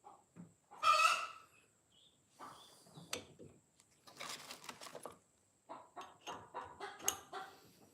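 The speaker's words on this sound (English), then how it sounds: "The chickens are out there clucking." Chickens cluck outdoors around a farm workshop where a sickle bar mower is being repaired, in irregular bursts of fairly close, moderately loud clucks and squawks spread across the whole stretch.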